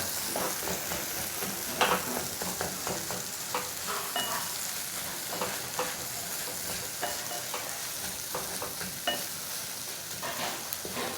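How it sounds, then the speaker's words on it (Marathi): Egg bhurji sizzles steadily in a hot pan while a spoon mashes and stirs it, giving a continuous frying hiss dotted with soft scraping taps, close and without talk. "आणि कंटिन्यू आपला चमचा तो पूर्णपणे भुर्जीमध्ये मॅश करत राहायचा."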